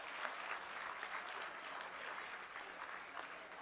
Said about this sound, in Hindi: तालियां जोरदार होती रहें आपके साथ।